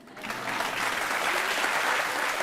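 Studio audience on a televised courtroom-style talk show breaks into loud, sustained clapping that swells quickly and holds steady, with no voices.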